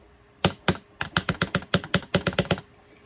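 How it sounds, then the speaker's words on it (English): Keys clicking on a Wooting keypad: a quick burst of about fifteen crisp, close plastic clicks and thocks in an irregular, fast rhythm, with a couple of slower presses at the start and no talking. "with the Wooting, you're guaranteed gonna have it stop moving if you're clicking it, especially the middle key"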